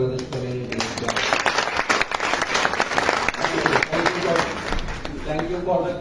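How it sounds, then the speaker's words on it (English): Audience clapping at a State of the Map Asia 2024 closing ceremony, a sustained, dense round of applause filling the room with a voice speaking over it. "I would like to have a big round of applause for the Youth Mapper chapter and the wonderful Voice of Bangladesh community"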